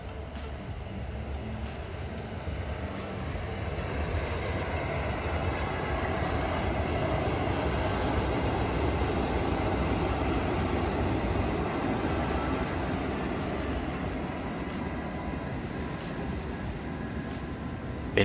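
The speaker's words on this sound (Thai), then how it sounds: "ขบวนรถนำเที่ยวที่975 ทำขบวนโดยฮิฮะ 183" A KiHa 183 diesel excursion train passes close by on a Thai railway line, a steady loud rumble with faint rhythmic clicks from the wheels that holds for the whole stretch.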